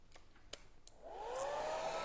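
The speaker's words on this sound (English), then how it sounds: "So I've got a hairdryer here." A hair dryer switching on after a few faint taps, its airflow rising into a steady whooshing hum with a whine that climbs in pitch, close and fairly quiet.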